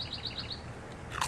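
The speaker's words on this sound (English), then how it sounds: "Oh wow, what bird is that?" A wild bird calls outdoors beside a trail, a quick series of bright chirps near the start and a louder call at the end, over faint ambient noise.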